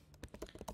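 Quick burst of clicky computer keyboard typing, about half a dozen crisp key taps in an uneven rhythm, close and fairly quiet, with no voices.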